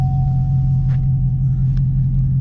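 A Chevy Camaro ZL1 1LE engine idles steadily with a deep, even low rumble, close and continuous, no voices over it.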